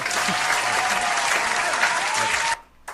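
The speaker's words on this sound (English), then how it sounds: "Can we get a clap for him?" Applause from an audience at a birthday celebration honoring a speaker, a dense steady burst of many hands clapping at close range that cuts off abruptly near the end.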